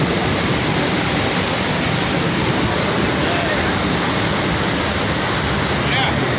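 Water rushes continuously and loudly from the outlet of a pump station at a bank, a dense, steady roar that fills the whole stretch without pause.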